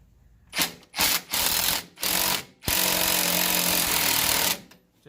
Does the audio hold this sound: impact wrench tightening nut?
yes